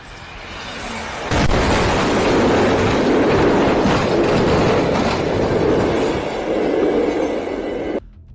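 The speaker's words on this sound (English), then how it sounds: "The bus, which had broken down on the tracks, was unable to move when the train came barreling through, dragging it along in a dramatic crash." A train barrels through a level crossing and slams into a broken-down bus, a loud sudden crash followed by sustained grinding, rumbling and clattering as the bus is dragged along, ending abruptly.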